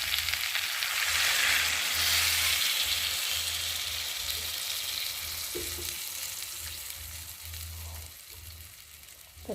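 Water poured into a pan of frying potatoes, cauliflower and bori, bursting into a loud broad hiss that slowly settles into a steady simmering sizzle, with a low hum underneath and no voices.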